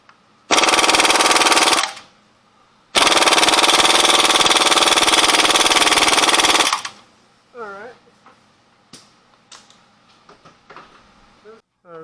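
A 1/2-inch Snap-on impact gun breaking loose rusty exhaust nuts during Honda Pilot transmission removal: two long, loud rattling bursts, then a few short clicks and squeaks.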